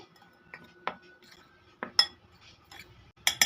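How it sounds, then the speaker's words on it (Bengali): A spoon stirring dry spices and flour in a bowl, giving sharp scattered metallic clinks and scrapes against the bowl at close range, with quiet gaps between strikes. "এবার শুকনো উপকরণগুলো একসঙ্গে খুব ভালো করে মিশিয়ে নেব"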